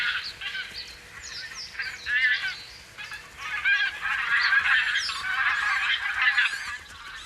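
Several geese honk and call repeatedly at close range along a watchful riverbank flock, overlapping bursts rising and falling with a brief lull before a denser, sustained chorus.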